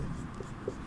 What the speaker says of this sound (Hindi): हम लोग लिखेंगे यहाँ पर